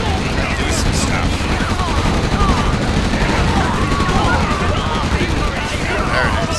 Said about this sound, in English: Look at that machine gun fire.